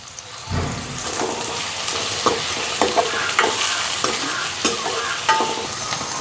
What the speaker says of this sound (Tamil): இப்போ வச்சு நாங்கள் கருவேப்பமிலையும் போடுவோம்.